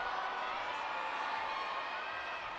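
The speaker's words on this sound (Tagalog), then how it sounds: "the crowd is crazy right now" Volleyball arena crowd at a UST vs. UP quarterfinal match cheering, a steady roar of voices filling the hall without pause.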